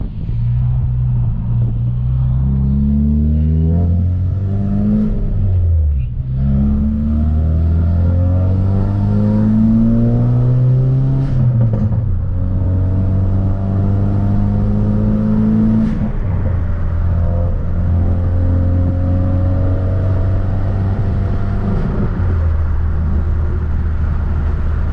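A 2017 Ford Focus RS drives a cool-down lap on a track, its engine droning loud and close from inside the cabin, rising and falling in pitch through repeated gear changes.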